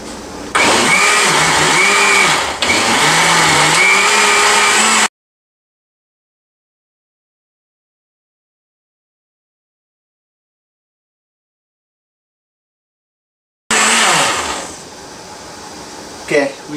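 A blender whirring through fire-roasted hot sauce with Hungarian paprika and hot wax peppers: a loud, steady motor drone that runs, drops to silence, then starts again and winds down.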